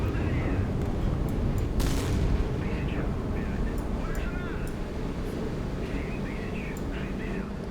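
Anti-ship missile striking a ship in the naval combat game Sea Power, a sharp explosive crack followed by rolling rumbling booms and distant cannon-like thuds, with a voice talking over the battle.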